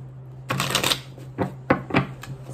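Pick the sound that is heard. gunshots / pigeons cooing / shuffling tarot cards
shuffling tarot cards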